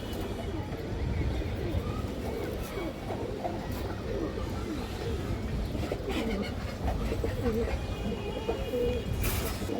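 High flyer pigeons coo in a low, continuous murmur close by, while someone talks over them throughout.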